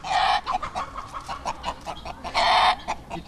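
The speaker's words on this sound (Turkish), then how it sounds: "Denizli horozu." A Denizli rooster clucks loudly and close up in a rapid series of short calls, with two longer, harsher bursts at the start and near the end, no talking.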